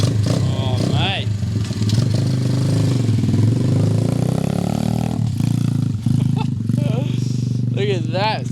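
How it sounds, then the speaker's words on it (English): Motorcycle engine idling steadily after carburetor tuning and cleaning, a continuous low rumble running through the whole stretch beneath ongoing talk. "Took a bit to get the carb tuning good, but give it a bit of air, bit of clean. It's idling perfect."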